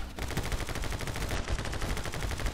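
Rapid automatic gunfire in a shooter video game, a dense continuous burst of shots that stays loud and close throughout, with no talking.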